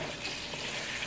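Chicken karahi fries in a pan while being stirred with a spoon, giving a continuous close sizzle with a soft scraping texture over a short stretch.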